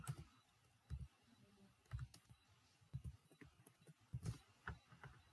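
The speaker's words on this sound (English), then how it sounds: "I am typing hello world." Soft clicks of keys on a computer keyboard come in small clustered bursts, roughly once a second, quiet and close with no voices.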